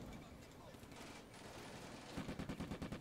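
Gunfire in the Combat Mission Afrika Korps war game, a steady rattle of shots that turns into a denser, rhythmic burst of fire near the end.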